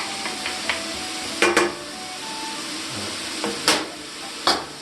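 Onions cook in a pan for an Italian lamb, peas and potato dish, a low sizzle broken by several sharp scrapes and clacks of a utensil stirring against the pan.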